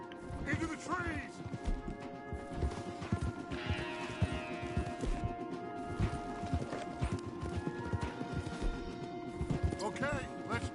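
Horses gallop in Red Dead Redemption 2, their hooves clip-clopping in a fast, steady rhythm with occasional whinnies. Voices and game sounds run underneath throughout.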